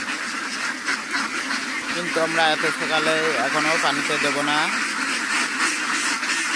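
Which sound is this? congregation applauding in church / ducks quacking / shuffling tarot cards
ducks quacking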